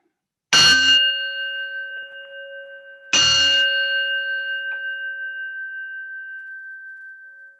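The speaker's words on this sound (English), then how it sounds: "when you hear the ringing of the singing bowl, come back to this space" A singing bowl is struck twice, about three seconds apart. Each strike blooms into a clear, sustained metallic ring with layered overtones that slowly fades in the quiet, the second tone still ringing at the end.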